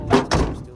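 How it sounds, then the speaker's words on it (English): An old car door at a junkyard swings shut with a solid close thunk followed by a second heavier latch thud, loud and near, with a brief fade afterward. "Door still shuts like day one."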